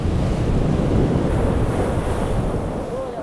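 A strong desert wind blows at about 12 m/s. It roars loudly and steadily with heavy, gusty buffeting on the microphone through the whole stretch.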